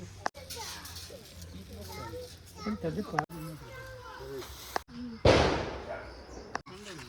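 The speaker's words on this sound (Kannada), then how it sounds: "ಪಟಾಕಿ ಬಿಡೋದ್ರಲ್ಲಿ ಎಕ್ಸ್ಪರ್ಟ್ ನಮ್ಮ ಚಂದಪ್ಪ" A loud firecracker burst cracks out once near the end, amid children's voices and chatter in the background, during a festival near Sakleshpur.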